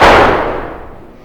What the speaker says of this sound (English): it's the door slamming.